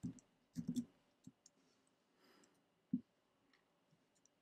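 A few sharp mouse clicks on a save button in a web-based Markdown editor, one quick double click near the start and another single click later, faint and close against quiet room noise.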